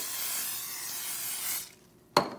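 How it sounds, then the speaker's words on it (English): Cooking spray hisses onto a hot waffle iron in a steady, close, broadband spray lasting about a second and a half, then stops, followed by a single sharp click or tap. "We're going to go ahead and spray it on the top"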